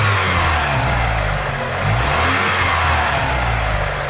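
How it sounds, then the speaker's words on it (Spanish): A car engine from a Mitsubishi 4G6 series motor, running during a coolant flush, revs up to about 3000 rpm and holds there, loud and close, with a steady low hum and no talking. "3 acelerones a 3000 revoluciones"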